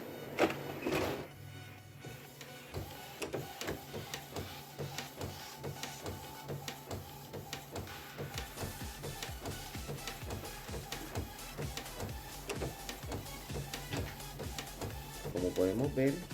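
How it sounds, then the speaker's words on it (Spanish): An inkjet printer feeds and prints A3 flyers on 150 g glossy couché coated paper, with steady rapid mechanical clicking and whirring of the print head moving back and forth, close and continuous, heard alone for most of the stretch. "ya la impresora empezó a imprimir en el papel Propal Coat o Couché de 150 gramos, tamaño A3"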